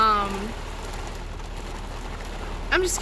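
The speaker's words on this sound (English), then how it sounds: "This is a lot of rain. Wow. We're in a hailstorm." A dense, steady clatter of hail pelting down during a hailstorm with heavy rain, loud and continuous, with a voice briefly speaking at the start and again near the end.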